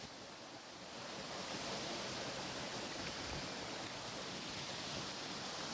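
Small village waterfall beside a campfire spot, heard as a steady, broadband rush of falling water that swells slightly after the first second and then holds constant, fairly close, with no talk.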